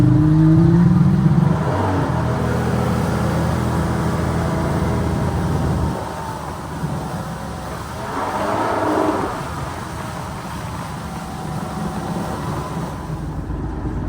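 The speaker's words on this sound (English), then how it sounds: "It's definitely revving up a lot higher now since it's warmed up" A rebuilt 2000 Kawasaki Ultra 150 jet ski engine, warmed up, drones steadily and loudly up close, then swells into a higher rev midway before settling back to a rough, constant roar.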